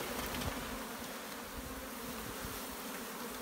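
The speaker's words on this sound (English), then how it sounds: "Let's see if we can get a handful of bees here." Bees buzzing steadily and close around an outstretched hand, a dense continuous insect drone with no talk.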